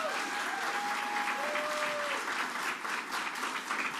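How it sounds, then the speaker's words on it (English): An audience at a bill signing for legislation honoring Holocaust survivors claps steadily, a dense, sustained round of applause filling the room. "Let's give them a round of applause for their efforts."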